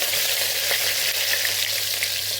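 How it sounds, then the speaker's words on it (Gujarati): Curry leaf sprig sizzling in hot oil with cumin and green chillies during tempering for a farali moraiya and potato khichdi; a steady, close, loud crackling sizzle runs throughout with no voices. "અહીંયા મીઠા લીમડાની ડાળખી પણ ઉમેરી દઈશું,"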